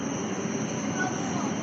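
Train noise at London St Pancras station forms a steady, close rumble and hiss with faint high squeals, constant throughout with no breaks.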